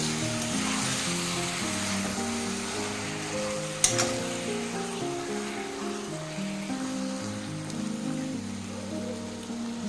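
Country-style chicken chops cooking in a pan give a steady, even sizzle that runs throughout, with sustained musical tones underneath and one sharp tap partway through.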